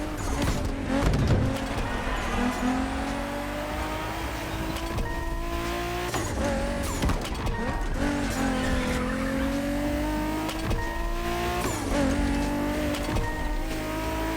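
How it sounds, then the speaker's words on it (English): A BMW Z4 M40i roadster in the racing game The Crew Motorfest drives with a loud, steady engine drone. The pitch climbs and drops through gear changes, and bursts of tire squeal break in over the 14 seconds. "We have prepared a classic for you from a very famous German brand, the BMW Z4 M40i."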